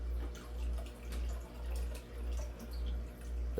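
Water poured into a 30 gallon shrimp and snail aquarium to top it up, a steady close splashing and trickling stream that swells and eases in a slow rhythm.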